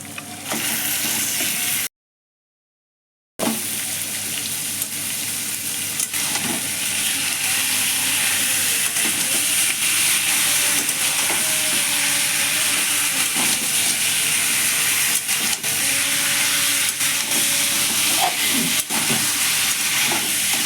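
Marinated chicken goes into a pan of fried spices, producing a steady, loud sizzle with stirring scrapes that carries on continuously after a short silent break.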